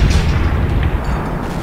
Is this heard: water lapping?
no